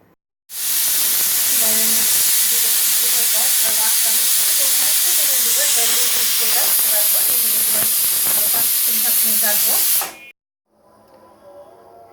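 A pressure cooker cooking caramel mango pudding on a stovetop vents loud, continuous hissing steam for about ten seconds, with faint rattling under the jet, then cuts off abruptly, leaving quiet background noise.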